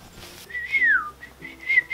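A person tries to whistle, producing a few thin, wavering tones that slide downward, with breathy gaps between the attempts, close and fairly quiet.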